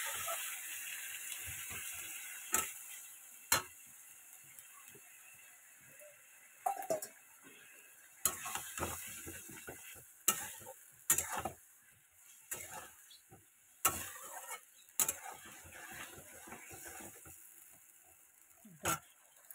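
Food being stirred and sautéed in a pan with a little water, with a low hiss under scattered sharp scrapes and knocks of a spatula at uneven intervals, close by but fairly quiet.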